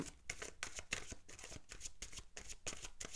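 Tarot cards being shuffled by hand, a quick run of crisp riffling flicks in steady rhythm, close and soft, with no talk.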